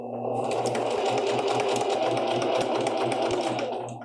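A sewing machine runs a straight stitch along a pants leg with a steady, continuous mechanical whir and rapid needle chatter, close and loud from start to finish.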